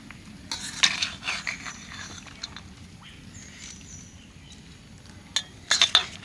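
Semolina pulao is drained of its sugar syrup through a kitchen sieve, giving scattered light clinks and scrapes of metal utensils, a few sharper taps near the start and end, over a low steady background hiss.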